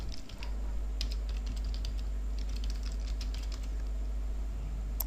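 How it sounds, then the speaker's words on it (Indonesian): Keys clatter on a computer keyboard as a domain name is typed, a quick, close, irregular run of light clicks over a low steady hum, with no talk. "kemudian ketikkan nama domainnya."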